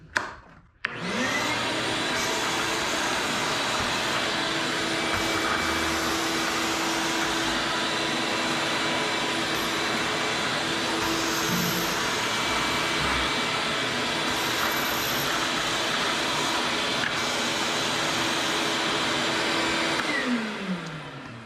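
A Ridgid 12-gallon shop vac runs continuously while vacuuming up dust, a loud, steady roaring whine that starts abruptly after a brief click and drones on for about twenty seconds before easing off.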